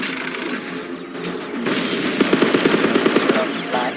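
Rapid gunfire from a ship in the space shooter Phantom Galaxies, a quick evenly spaced burst of about a dozen sharp shots fired in a tight rhythm over a dense background of game sound.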